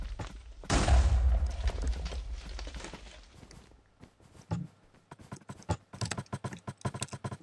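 Gunfire in a Minecraft recreation of the Black Ops 2 Carrier map, an M4 rifle in play: a loud burst of shots opens, then after a lull a rapid stutter of sharp, repeated shots returns near the end.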